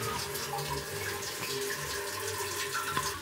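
Water runs steadily from a shower in a combined toilet-shower room on the Salkantay trek in Peru, a continuous close hiss with faint splashes throughout.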